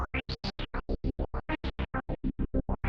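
Sampled SILVER instrument from the Audiobro library played through a filter with a 16th-note chop, producing rapid evenly spaced gated pulses in a tight rhythmic stutter with a shifting filtered tone.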